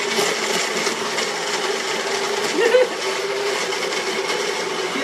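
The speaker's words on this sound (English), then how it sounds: "And then I got my little blender." A small blender blends a protein shake with ice, whirring steadily and loudly for the whole stretch, its motor noise broadband and constant, with a brief louder grind partway through.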